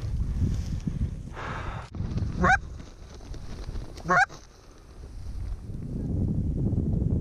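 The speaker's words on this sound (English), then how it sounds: "geese in the air over there" Two honks from geese flying overhead during a goose hunt in Iowa, a few seconds apart and moderately distant, over gusty wind noise.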